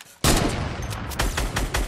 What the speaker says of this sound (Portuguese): Eu errei um tiro aqui que não era pra ter errado.